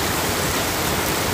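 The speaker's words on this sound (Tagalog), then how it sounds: "lakas ng ulan." Dense, steady rushing noise like a heavy downpour, loud and continuous with no pauses and no voices.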